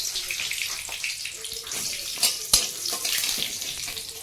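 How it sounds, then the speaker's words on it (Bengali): Sour tamarind-style water poured into an oily wok after dry chillies and black mustard seeds, a hissing, splashing pour with a couple of sharper sizzling pops, moderately close. "এবারে টক গলা জলটা দেবো আর একটু জল দেবো"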